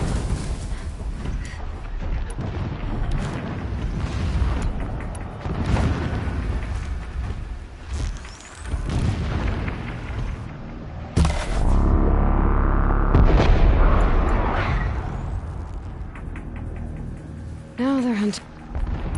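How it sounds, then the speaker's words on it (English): Distant explosions in the video game Horizon Zero Dawn, a series of low booms and rumbling bursts mixed with game sound effects and a voice talking over parts of it. "Explosions in the distance."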